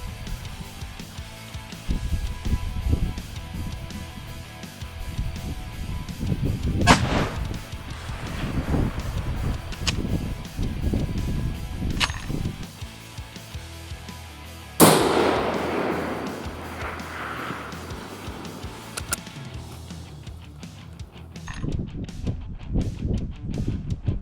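A single sharp hunting rifle shot at a Rusa stag in New Zealand bush, one loud crack with a trailing echo, set among wind and scattered outdoor noise.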